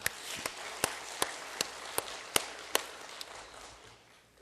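A church congregation at a Korean Sunday worship service claps together in a steady, evenly spaced beat, about a dozen sharp claps ringing through the hall before it falls quiet.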